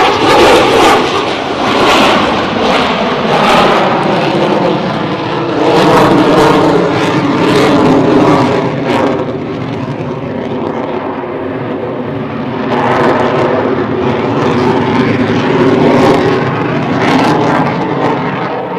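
An F/A-18C Legacy Hornet Navy jet flies a tactical demo at a Florida airshow, a loud, roaring turbine blast with a wavering, pulsing whine that stays strong throughout, no talking.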